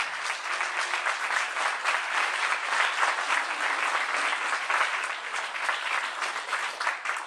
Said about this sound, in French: Je voulais aussi que vous applaudissiez Ouprassi, Émilie Prospera